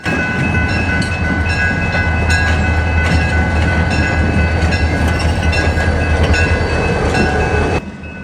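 Two EMD SD40-2 diesel locomotives roll past on a light power move at Rosenberg, Texas, with a loud, steady low engine rumble, rail noise and metallic squeal. The sound stays close and continuous, then drops off sharply near the end.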